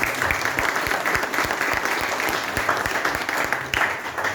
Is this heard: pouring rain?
no